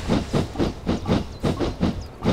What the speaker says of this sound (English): It's a great day for riding on a steam train.